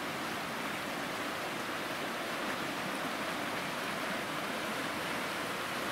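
Steady rushing of a mountain stream in the taiga where drinking water is collected, a continuous broadband wash of flowing water heard close and fairly loud, with no voices over it.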